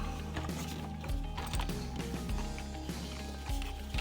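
The trigger of an SCX 1/32 slot car hand throttle scrapes and clicks against its inside housing in a rough, irregular mechanical rhythm, close and fairly loud, with several sharper knocks.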